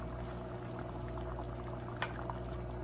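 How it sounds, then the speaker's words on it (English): Gravy made from pan scrapings and water simmers in a pan, a soft continuous bubbling and sputter with a faint pop near the end, no voices. "Look at that beautiful gravy. And that is just from the scrapings on the bottom of the pan"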